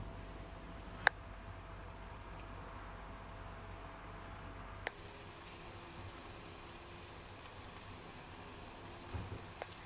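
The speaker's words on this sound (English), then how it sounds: "When the oil is hot, we put this in and we let it fry." Sweet potato donuts fry in hot oil, giving a faint, even crackling hiss like light rain, with a few isolated pops and a quieter stretch partway through; nobody speaks.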